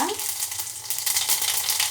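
Cumin seeds temper in hot oil in a pan for millet khichdi, giving a soft, steady sizzle and crackle with light popping, close up and fairly quiet, with no talking.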